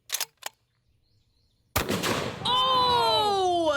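A .577 T-Rex-style rifle firing a 750 grain A-Square bullet: a single loud, sharp blast after brief clicks, followed by a ringing, echoing tail of ringing tones.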